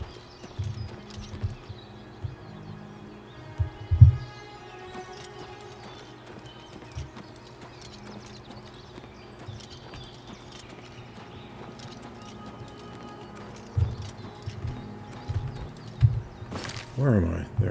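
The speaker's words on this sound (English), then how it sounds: "Horses? What?" Steady clip-clop of horse hooves trotting in the video game The Elder Scrolls IV: Oblivion Remastered, with game music and effects underneath and a few louder thumps and a sharp sound near the end.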